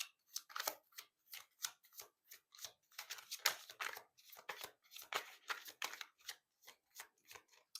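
Tarot cards being shuffled and riffled by hand, a rapid run of crisp papery flicks and snaps in uneven bursts, close and fairly quiet, with no talking.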